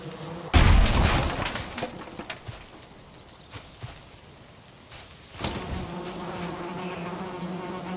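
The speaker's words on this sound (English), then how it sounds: "I can't have that beehive like right next to my house. They're making all kinds of noise." Bees buzz loudly around a beehive in the video game Valheim, starting with a sharp burst and then settling into a steady, fluttering hum with faint bird-like chirps over it.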